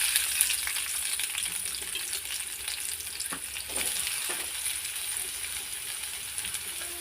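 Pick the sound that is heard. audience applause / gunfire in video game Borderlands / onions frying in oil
onions frying in oil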